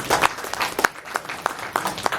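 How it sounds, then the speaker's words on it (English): A small group applauds departing speakers at a roundtable meeting, producing a short burst of sparse, uneven individual claps close by. "We're going to give you a round of applause."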